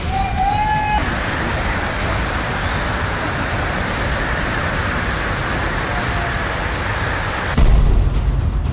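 Floodwater rushes through residential streets in Jodhpur during monsoon flooding, a dense, continuous roar of flowing water that fills the whole stretch, loud and unbroken, ending with a brief low thump.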